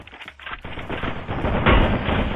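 Rapid bursts of gunfire from the mobile game Free Fire crackle loud and close, a dense string of shots that builds toward a heavier volley at the end.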